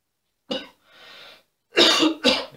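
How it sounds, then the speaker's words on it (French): Coughing during a yoga detox breathing kriya: a sharp cough, then a softer breathy exhale, followed by two loud, close coughs in quick succession, with no talking. "N'hésitez pas à tousser pour évacuer toutes les toxines qui resteraient dans les poumons"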